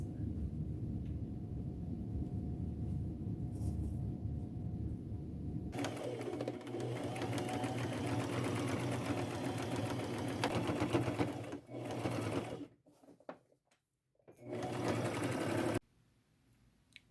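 Sewing machine stitching denim poncho panels up close, a lower hum at first, then a louder sustained run of fast needle clatter with a few brief pauses and restarts near the end.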